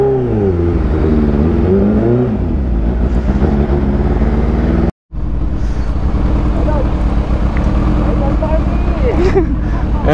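A supercharged Kawasaki H2 motorcycle engine idles and revs loudly nearby, its pitch rising and falling at first, then settling into a low steady rumble after a brief cutout, with wind noise and people talking over it.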